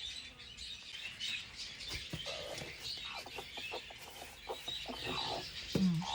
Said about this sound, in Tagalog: So silipin natin itong mga manukins na to oh. Nakaupo na naman doon sa kanilang ano eh, nest.